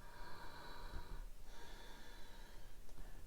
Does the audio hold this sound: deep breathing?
yes